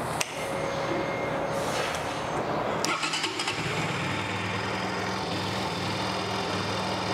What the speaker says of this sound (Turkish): Şimdi motoru bir çalıştıracağız.